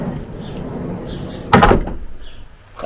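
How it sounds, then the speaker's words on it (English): A VW California camper van's sliding door rolls and shuts with a sharp, loud latching clunk midway, after a softer rolling rumble, followed by a brief lighter click. "The sliding door catch,"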